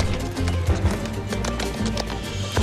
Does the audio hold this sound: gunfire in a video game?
no